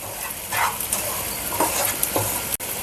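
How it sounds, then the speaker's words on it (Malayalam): Chili powder heating and sizzling in oil in a pan for chicken curry, a steady close frying hiss with a few soft stirring scrapes, no talk. "ഇങ്ങനെ മുളക് പൊടി ചൂടാക്കി ചേർക്കുന്ന"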